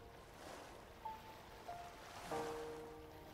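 Ocean waves in A Difficult Game About Climbing, a soft continuous wash of surf with a few faint tonal game chimes, heard at a low level with no talking.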